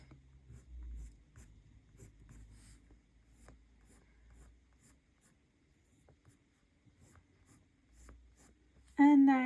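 Polychromos coloured pencil shading a red squirrel drawing on toothy paper gives soft, close, continuous scratchy strokes in an irregular rhythm, with a brief voice starting at the very end.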